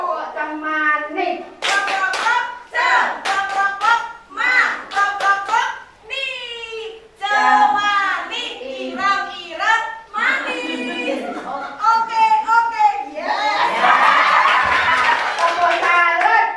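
Children clap in unison at a gathering in Kertosari, bursts of rhythmic hand claps mixed with a lot of lively children's voices and chatter, fairly close and loud.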